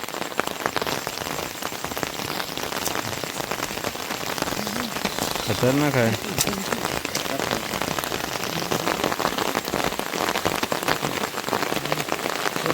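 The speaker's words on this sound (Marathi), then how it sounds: "पाऊस जोरात आहे एकदम." Heavy monsoon rain pours down at night during a crab-catching outing, a dense, steady roar close by that fills the whole stretch, with a few brief spoken words partway through.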